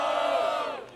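A crowd at a rap battle roars and shouts for a rapper, a loud, sustained collective yell that tapers off toward the end.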